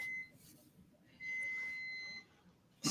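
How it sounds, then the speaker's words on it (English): A coffee pot beeps as the heating element on its bottom switches off, sounding as a few faint, steady electronic tones over a quiet room, with a brief loud bump at the very end. "my coffee pot beeps when the heating element on the bottom turns off"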